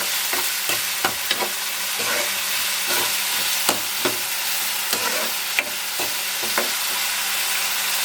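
Murrel fish curry frying in a pan with a steady sizzle, broken by repeated scrapes and clacks of a spoon stirring, close and continuous with no talk.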